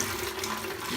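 Plain tap water runs and splashes while aquarium substrate is rinsed, a steady, close, hissing gush with no talk.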